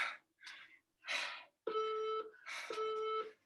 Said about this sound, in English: That's just starting the 3-minute timer.